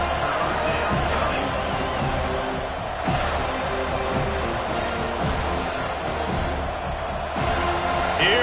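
A home crowd at a college football game between Florida State and the Gators roars steadily, a dense wall of cheering and stadium noise that stays loud throughout without letting up.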